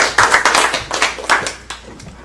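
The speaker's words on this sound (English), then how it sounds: "let's give another round of applause for Adam" A lecture audience at a supervised learning methods session gives speaker Adam a short burst of applause, a small group of close, distinct hand claps rising and falling over about two seconds.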